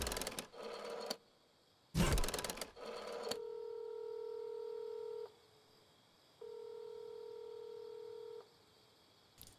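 A telephone dialing tone from the big phone in the Fortnite video game: a few bursts of keypad-like tones, then two long steady electronic tones separated by a pause, clear and alone.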